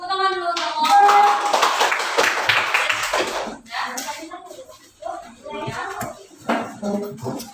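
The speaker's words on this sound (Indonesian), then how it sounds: "Tepuk tangan dulu untuk Allah." Children clapping their hands together in a classroom lesson, a burst of brisk, uneven applause-like claps close by at the start, then thinning into scattered claps and taps mixed with shuffling and young voices.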